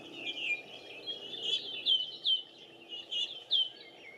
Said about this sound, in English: we did get this view of this song thrush way up in the tree there